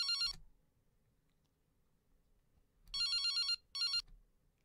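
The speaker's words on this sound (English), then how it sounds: "It's my cell phone." A cell phone ringtone in a horror visual novel video game, an electronic warbling tone in three bursts: one brief ring, a pause, then a longer ring followed by a short one, clear and alone.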